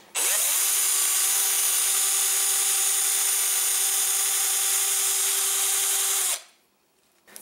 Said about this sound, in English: Now I have this cone-shaped file on a drill, and so now I can just put it here and file away.